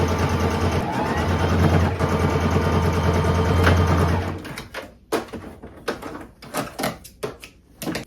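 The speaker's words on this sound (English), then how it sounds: "now I'm going to sew doing a straight stitch following the line that we made earlier" A sewing machine runs a straight stitch on a thrifted garment, a steady close motor hum for about four seconds before stopping, followed by faint handling clicks and fabric rustles.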